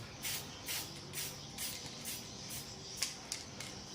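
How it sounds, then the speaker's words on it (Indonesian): Spray paint is applied to the hands of a wall clock in short repeated hissing bursts, about six close sprays separated by brief pauses, with no talking. "Kita semprot kembali ya, soalnya ini kebalik tadi ya."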